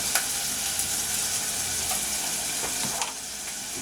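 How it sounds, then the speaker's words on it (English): Onions dropped into melted butter in a pan sizzle and crackle steadily, a close, hissing fry with small pops throughout, no talking. "Listen to that sizzle."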